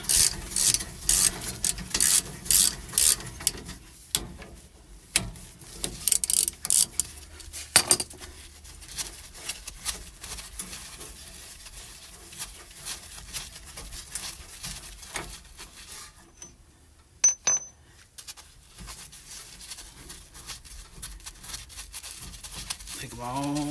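A wrench works loose 17 mm rear brake bolts on a 2008 Toyota Tundra, giving a series of close metallic clicks, ratcheting and clinks in short irregular bursts with quieter pauses between them.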